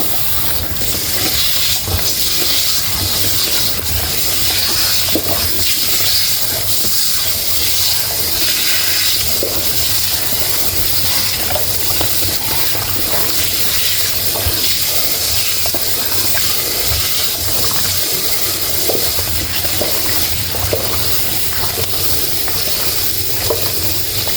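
Kaffir limes being rinsed in water, with a steady, continuous rushing and splashing hiss that carries on evenly for over twenty seconds without talk.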